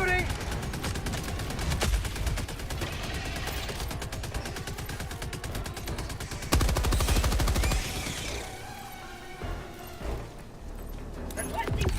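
Sentry turret fire in the Helldivers video game, rapid gunfire bursts running steadily for most of the stretch amid game sounds, with a louder surge midway before thinning out, while a voice talks over it.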